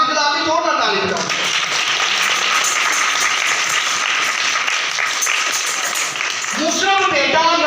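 Congregation at a church sermon breaks into sustained, dense clapping that fills the room for several seconds, with a preacher's voice briefly heard before and after the applause.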